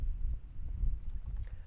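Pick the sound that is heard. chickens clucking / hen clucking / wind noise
wind noise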